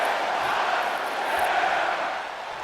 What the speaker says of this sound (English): Crowd is loving this match